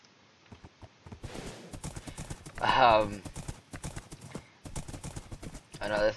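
Horse hooves clip-clopping in Minecraft as a rider gallops, quick rhythmic clops with a whinny partway through, under someone talking throughout.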